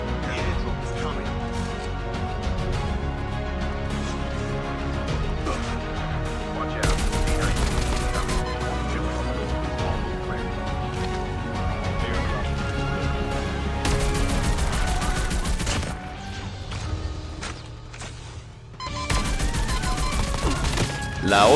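Oden assault rifle fire in Call of Duty Mobile, dense rapid bursts of gunshots layered over loud game music and effects, with brief pauses between volleys.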